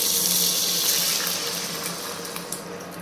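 Water pours steadily into a pot of sambar made with leftover boiled dal, a continuous close rushing flow like a running tap that eases off slightly toward the end, with no voices.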